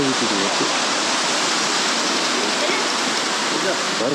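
Elephant Falls in Meghalaya roars as a dense, constant rush of falling water, loud and close, filling the whole moment without pause and with no speech heard over it.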